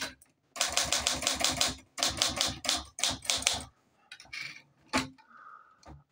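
Typing on an Olympia SG1 manual typewriter, loud close bursts of rapid sharp key strikes in three runs, followed by a few isolated clacks and a carriage or lever sound.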